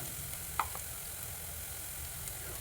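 Curry leaves and onions sautéing in a pan for a fish curry, giving a soft, steady sizzle that stays faint and even throughout, with no talking.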